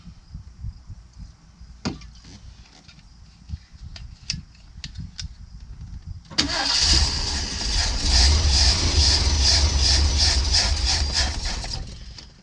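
A 1979 Ford Pathfinder Quadravan 4x4 engine is cranked without fuel after a few clicks and knocks, with a long steady rhythmic starter churn that goes on for several seconds without catching, close and fairly loud.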